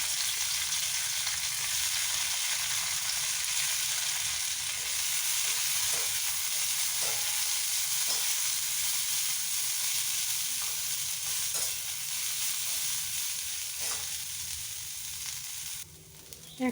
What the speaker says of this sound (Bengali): তাই ফুলকপি ভাজা একটু করব